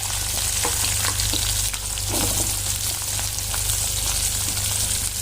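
Green chili and onion frying in hot oil for a raw tomato chutney, a steady loud sizzle throughout with occasional stirring clicks.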